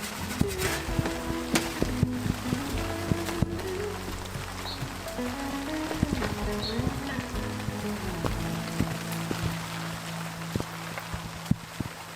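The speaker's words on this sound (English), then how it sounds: "It's really raining." Steady rain patters on surfaces outdoors, with a low engine hum underneath and scattered sharper drips and knocks.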